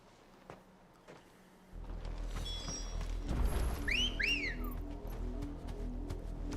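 A character in Final Fantasy XVI gives a quick two-note whistle, rising swoops that stand out over ambient game music and a low background rumble.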